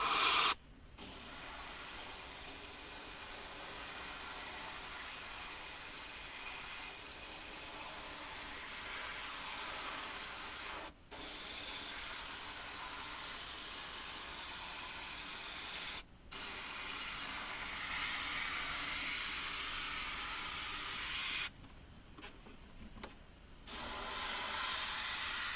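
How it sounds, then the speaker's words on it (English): Iwata airbrush spraying water-based detail white paint onto an RC body shell, a long steady high hiss broken by a few short pauses and one longer gap before resuming. "That gun with detail white in it sprays amazing."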